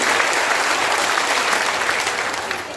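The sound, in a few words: crowd applauding at political rally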